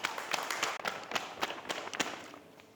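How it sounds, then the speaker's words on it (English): An audience claps for a newly named district president at a Cameroonian community meeting in Cyprus: a brief burst of dense, irregular applause, fairly close and steady for nearly three seconds. "Please clap for him."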